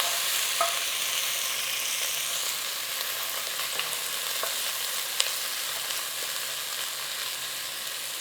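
Onion frying in a pan with popping cumin seeds makes an even, moderate sizzle throughout, with a few scattered crackles and a single sharp tap of a utensil.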